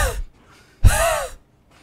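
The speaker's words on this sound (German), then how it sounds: "Was muss das für eine geile Synchro gewesen sein, die ganze Zeit so ins Mikro zu atmen?" Heavy, breathy gasps from a voice actor in the video game Get Even, close to the microphone: one short exhale, a pause, then a longer strained breath, loud and intimate.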